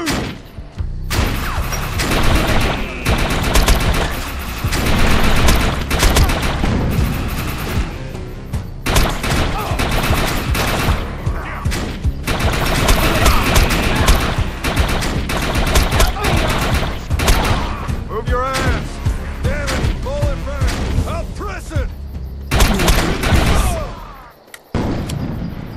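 Heavy, continuous gunfire rattles through a fight in the shooter Defiance, with dense volleys, booming impacts and explosions piling up almost without a break. Voices shout over the battle at times.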